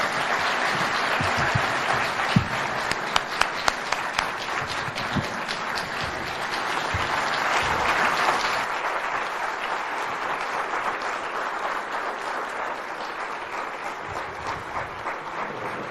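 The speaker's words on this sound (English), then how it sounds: "let's just give him another round of applause, ladies and gentlemen, for a wonderful delivery" Sustained audience applause fills a hall after a speech at a chamber of commerce regional business summit, a dense, steady roar of many hands lasting throughout, a few sharper claps standing out early.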